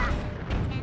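Cannon fire in The Legend of Zelda: The Wind Waker, a short, dense booming burst with rumbling low end that fills the brief moment at close range.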